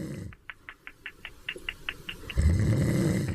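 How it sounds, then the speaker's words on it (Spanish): A man snores with a quick, regular series of short rasping snorts, fairly close and faint. A louder rumbling breath follows near the end, and no talk is heard. "es que no para de roncar"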